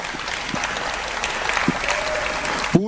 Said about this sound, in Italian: un sentito applauso a tutti i poeti che hanno partecipato al concorso